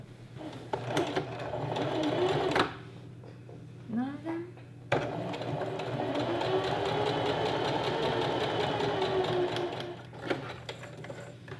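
A sewing machine sews down the edge of a knife-pleated maxi skirt in close, steady whirring runs, broken by a brief pause with a voice and a few handling clicks.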